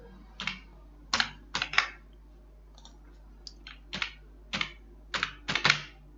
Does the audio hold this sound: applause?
no